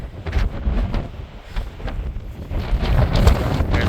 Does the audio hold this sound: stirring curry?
no